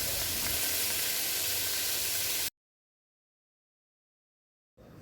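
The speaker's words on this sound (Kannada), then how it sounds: "ನಾವಿವಾಗ ಅದನ್ನು ತೊಳೆದಿಟ್ಕೊಂಡು ರೆಡಿ ಮಾಡ್ಕೊಂಡಿರೋಂಥ ಗೋಬಿನ ಹಾಕ್ಬಿಟ್ಟು ಫ್ರೈ ಮಾಡ್ತಾಯಿದ್ದೀನಿ" Cauliflower florets frying in oil in a pan give a steady, loud broadband sizzle for about two and a half seconds, then silence, with the sizzle returning briefly at the end.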